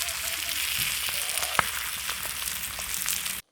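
Fish frying in hot oil, a steady broadband sizzle that holds evenly throughout, with a single sharp tick near the middle, and then cutting off abruptly at the end.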